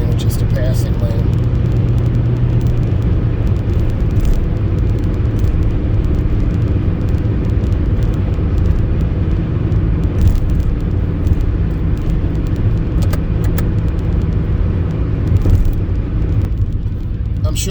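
Steady, loud road roar of a car driving on a three-lane expressway in heavy night traffic, continuous engine and tire noise with passing vehicles, no letup throughout.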